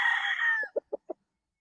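Boston Roundhead bullstag rooster, a 20-month-old gamefowl, lets out a single close crow that fades into three short clucks.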